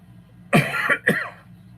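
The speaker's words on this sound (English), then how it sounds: "Yeah, I still got a cough." Two harsh coughs from a man follow one another closely, loud and near, with nothing else in the quiet around them.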